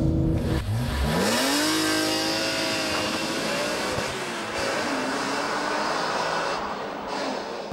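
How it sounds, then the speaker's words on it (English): Naturally aspirated engine of a BMW E46 M3 revving, rising sharply in pitch after a brief start, then holding a smooth high drone with small dips and a second climb, loud and close with no talking. "the engine sound of the naturally aspirated unit, oh my God, it's so good"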